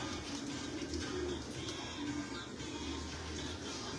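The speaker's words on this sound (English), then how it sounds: "we always try to listen to the pigeons" Homing pigeons cooing softly in a loft, a few low, warbling coos rising over a quiet, steady background hiss.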